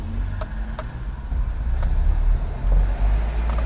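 A low, steady engine rumble from a vintage Alfa Romeo GT Junior Scalino on the move, with faint clicks and rattles over the continuous drone.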